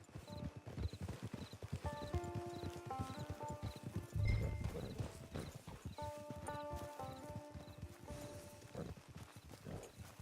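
Horse hooves clip-clop at a walking pace in Red Dead Redemption 2, steady and fairly close, under game music and with a brief whinny partway through.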